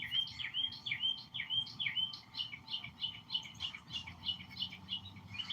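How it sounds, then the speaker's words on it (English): A pileated woodpecker calling outdoors in a rapid run of high, bright chirping notes that repeats steadily, fairly close and clear against a quiet background. "There's a big woodpecker, a pileated woodpecker out there somewhere."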